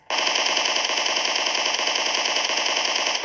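Sustained automatic gunfire in a battle royale video game, loud and close, a single continuous burst lasting about three seconds with no speech over it.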